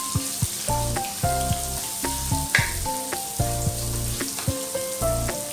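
Chopped onion sizzles steadily in a hot pan while cooking curd rice, a continuous close frying hiss with soft bumps as it settles, under light background music with tonal notes.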